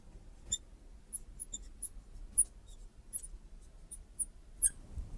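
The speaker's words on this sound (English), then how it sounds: "let's go ahead and write down this expression and see what it translates to." A pen scratches out a logic expression on paper, with soft, irregular strokes and small taps that stay faint and close.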